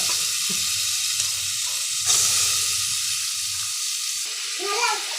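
Potatoes and peas for masala rice frying in a pan make a soft, continuous hiss and sizzle, broken by clanking stirs and scrapes, with short bursts of background sound near the end.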